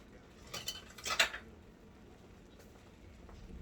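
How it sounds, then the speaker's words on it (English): A manual can opener works a can of grilling beans for homemade beef chili: a short burst of close, sharp metallic clicks and clanks, then quiet room tone. "Let me get my can opener."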